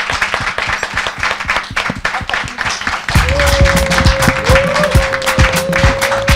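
Audience applauding at a society talk show, loud dense clapping that swells midway while a sustained musical tone enters over it.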